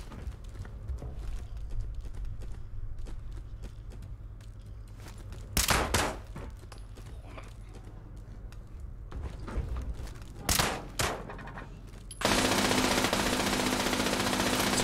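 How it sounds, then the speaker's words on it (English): Gunfire in the video game Fallout 76 during a fight with laser turrets, with a couple of sharp loud bursts spaced apart and then a sustained loud blast of firing at the end, over a low background hum. "Gonna do a little blind firing and then right back to hit it."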